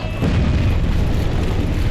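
A boss's explosion attack in Dark Souls Remastered, in the Demon Ruins: a loud, close, rumbling boom that sets in suddenly and sustains with heavy low-end roar.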